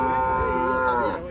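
A Brown Swiss cow or bull lowing during loading onto a truck, a single drawn-out close moo with low harmonic tones lasting about a second.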